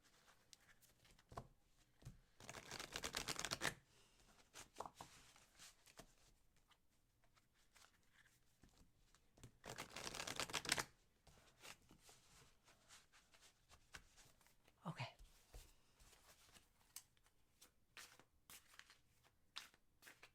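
Tarot cards being shuffled by hand in bursts of riffling and rustling, two longer dense flurries among faint sporadic card handling, close and quiet with no talk.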